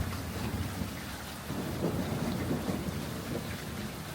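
A heavy thunderstorm roars with dense, steady rain and a low rolling rumble of thunder swelling midway, continuous and close with no voices.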